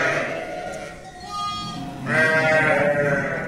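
Sheep and lambs bleat on a farm where ewes have just given birth, with two or three clear, wavering cries close by over a quiet background.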